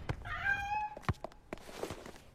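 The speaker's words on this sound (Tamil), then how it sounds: "பாலோட பூனை." A cat meows once with a clear, tonal cry, close and fairly loud indoors, followed by a few soft knocks and thumps.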